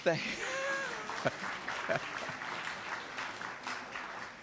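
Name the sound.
applause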